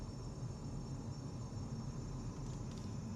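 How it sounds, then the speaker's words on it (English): Steady broadband whir from a car's fan after the engine has warmed up, with a faint metallic rubbing edge, continuous and fairly quiet throughout. "Do you hear that? It's like a fan noise."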